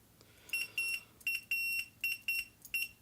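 A multimeter in continuity mode beeps while testing an Emax RS2205S brushless motor with a suspected shorted winding, giving a rapid series of about nine short, clear electronic tones, some longer than others, in a quiet room.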